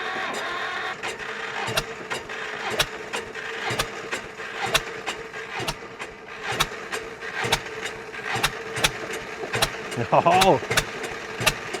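An old Porsche Junior 108 tractor engine cranks over in snowy cold with rapid, evenly spaced starter strokes for several seconds, then catches near the end. A voice exclaims briefly as it fires.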